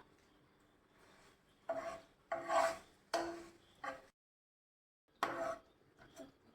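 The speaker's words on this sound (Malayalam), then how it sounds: "ഇനി നന്നായിട്ട് ഇളക്കി കൊടുക്കാം" Crushed ginger, garlic and green chilli stirred in a pan, a series of close scraping, rasping strokes in irregular bursts with a short silent gap.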